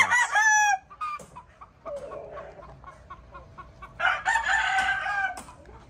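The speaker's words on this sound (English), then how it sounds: "The fighting cocks. The fighting roosters." Fighting cocks crowing in a rural yard in Valencia, Bukidnon, Mindanao, Philippines: one loud, near rooster crows at the start and another answers a few seconds later, with soft clucks and quieter calls in between.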